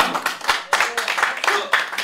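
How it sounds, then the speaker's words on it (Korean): A church audience claps for the musicians who brought their instruments, a short burst of hand claps with a voice heard partway through. "박수해주고 칭찬해 주세요"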